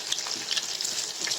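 Egg frying in a pan while stick noodles are cooked, a close, soft crackling sizzle with small irregular pops over a brief stretch, no talking.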